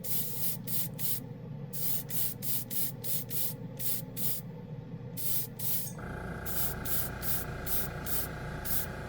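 A paint spray gun lays down a light coat of paint mixed with leveling thinner in a steady series of short, even hissing passes with brief pauses between them, close and fairly quiet.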